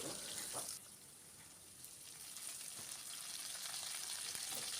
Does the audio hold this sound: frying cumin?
yes